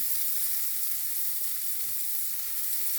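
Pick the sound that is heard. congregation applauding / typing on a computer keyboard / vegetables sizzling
vegetables sizzling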